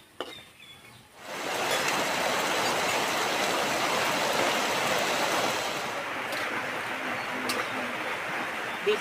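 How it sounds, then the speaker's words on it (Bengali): Rain falling outdoors, a dense steady hiss that starts abruptly after a quiet second and continues evenly, with a couple of faint clicks on top. "বৃষ্টি পড়তে লেগেছে"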